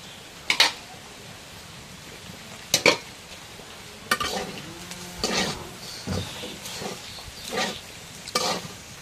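Boiled greens are stirred in a pan with oil, giving scattered scraping strokes and soft sizzling in short bursts spread across the clip.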